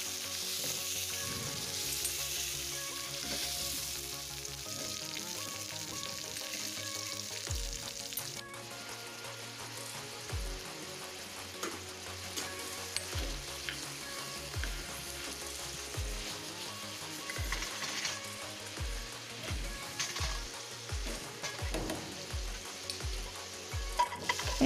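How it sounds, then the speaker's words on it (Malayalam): Onion, tomato and chillies sauté in a pan for a tomato chutney, with a constant close sizzle broken by repeated clinks and scrapes of stirring, and no voices. "നന്നായി വഴറ്റിയെടുക്കണം"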